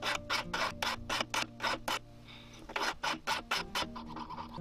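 Cast silver pendant handle being filed, a run of about a dozen quick, even rasping strokes close up with a short pause partway through, no talking.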